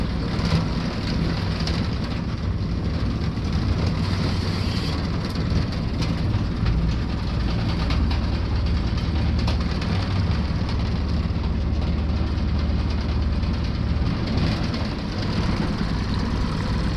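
A motorboat's outboard engine idles on open water during a spring fishing trip, a steady, loud, low rumbling drone that holds unchanged throughout, with no talking.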